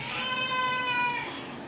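A young cat, almost a year old, meows for food indoors: one drawn-out, clear, fairly close meow, rising and then falling away, with no talk.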